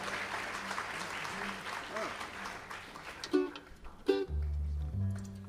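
Crowd applause at a mountain dance and folk festival, a wash of clapping that fades out near the end, with scattered voices and low instrument tones entering underneath.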